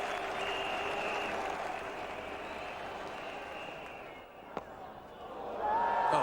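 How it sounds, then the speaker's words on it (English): A crowd at the 1999 Cricket World Cup match between West Indies and Australia applauds and cheers a boundary, with a broad, fairly distant roar that swells, dips briefly and rises again near the end, under a commentator's voice. "Finally, the crowd here gets something to cheer about."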